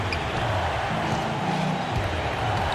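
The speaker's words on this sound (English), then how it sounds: "that bucket ignites the crowd" Arena crowd in NBA 2K15 cheering after a basket, a dense steady roar that stays loud for the whole moment, with faint low thuds beneath it.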